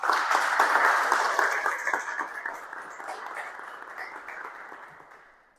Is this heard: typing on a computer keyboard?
no